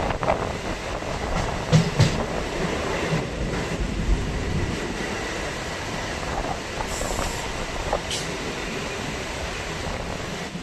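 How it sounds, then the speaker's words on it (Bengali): A local train rumbles steadily with rattling wheels and clattering carriages, heard from inside as it rolls slowly into Bisharpara Kodaliya station in West Bengal, with occasional faint squeals. "এই মুহূর্তে আমাদের ট্রেন প্রবেশ করছে বিশরপাড়া কোদালিয়া স্টেশনে"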